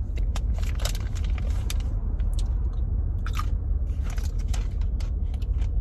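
Close, loud crunching and chewing of spicy pickle-flavored O-snaps snacks, repeated sharp crisp bites over a steady low rumble, with no talking.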